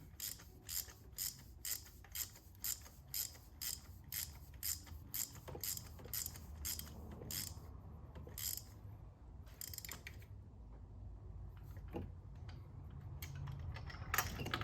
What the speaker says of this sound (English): Then crank it down with the wrench.